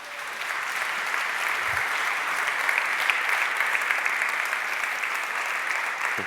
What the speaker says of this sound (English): please welcome and help me to have a really nice applause for Gáspár Nagy